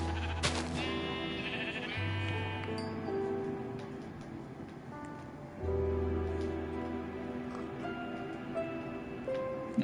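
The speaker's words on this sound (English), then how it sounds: "Okay, so we got sheep." Sheep bleat in a Godzilla survival video game, wavering cries rising over a low droning game soundtrack, fairly faint and spread through the scene with a few soft clicks.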